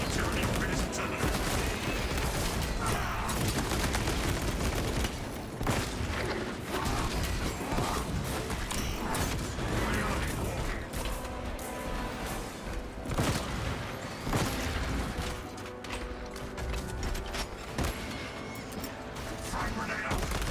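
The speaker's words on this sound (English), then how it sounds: "Cycling cartridges. Automatic weaponry engaged." Automatic weapon fire in Space Marine 2, played with a Techmarine build: a dense, loud, continuous stream of rapid shots mixed with booms and crashes of battle, unbroken for about twenty seconds.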